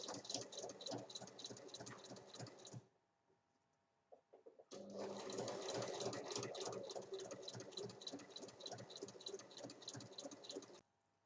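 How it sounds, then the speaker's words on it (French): Sewing machine stitching a zipper onto fabric for a fabric vanity case: two long runs of rapid, even needle chatter, close and loud, separated by a roughly two-second pause with faint handling noises. "Et on pique sur toute la longueur."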